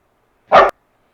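A single husky bark, one short loud burst close to the microphone, standing alone in silence.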